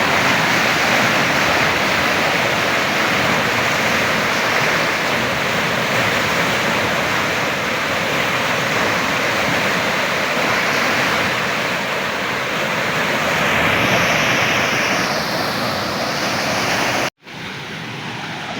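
Rushing river current in a Padma riverside village, a loud continuous wash of water noise with steady intensity, briefly cutting out near the end, with no voices.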